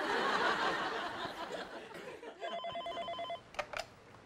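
A telephone rings in a home setting with a few quick, evenly spaced electronic ring bursts. They come after a stretch of noisy laughter and chatter, followed by brief knocks.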